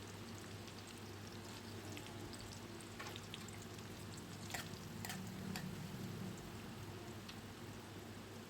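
Onions and green chillies frying in a pan for a Telugu bitter gourd (spine gourd) fry: a soft, steady sizzle runs throughout, quiet and close, with a few faint clinks of stirring.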